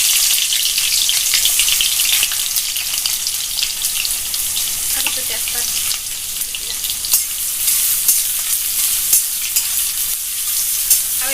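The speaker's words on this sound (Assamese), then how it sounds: "আৰু এইখিনি ৰঙা হোৱালৈকে মই ভাজি থাকিম।" Chopped onions fry in hot oil with a few whole cumin seeds, a steady close sizzle with occasional stirring scrapes as they brown, for a country-style chicken curry.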